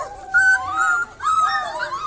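Several young puppies from an IKEA-themed litter, about four weeks old, whimper and whine in high, wavering cries, close and fairly loud, with short breaks between the calls.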